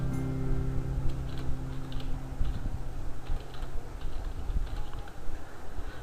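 Computer keyboard keys clatter in a steady, fast stream of typing over a constant low background hum, close and without speech.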